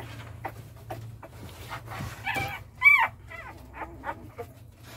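Thirteen-day-old pitbull puppies pinned under their mother whimper and squeak faintly, with one sharper, louder yelp midway amid soft panting and shuffling.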